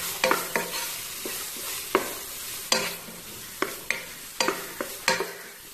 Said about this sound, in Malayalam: നന്നായി മിക്സ് ചെയ്യുക